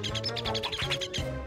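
A cartoon bird chirps in a quick run of bright, repeated tweets over a steady musical score, fairly loud and close in a PAW Patrol animated episode.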